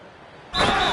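A slam dunk in an NBA video game on PS5 hits with a sudden broadband burst halfway through, followed by a loud, sustained crowd-like roar after a quieter stretch of game ambience.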